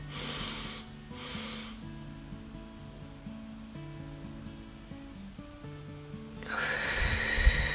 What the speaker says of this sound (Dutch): En dan blaas ik alles uit.